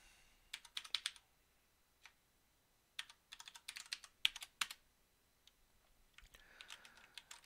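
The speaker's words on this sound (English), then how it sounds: "type that password again." Quick clusters of keystrokes as a password is typed on a computer keyboard, sharp light clicks in irregular bursts separated by brief pauses, close and quiet.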